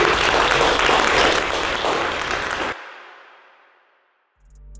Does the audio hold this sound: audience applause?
yes